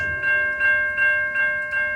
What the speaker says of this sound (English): the gates are going down again for another Hoboken-bound train